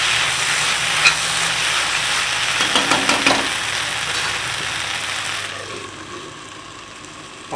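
Okra and tomatoes sizzle steadily in a pan for Indian bhindi masala, a loud continuous frying hiss that drops abruptly to a softer simmer near the end, as if covered.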